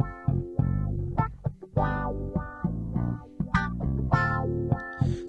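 Bass guitar played through a wah effect, a run of sustained notes with sweeping, vowel-like tone shifts and plucked attacks, loud and close with no talking.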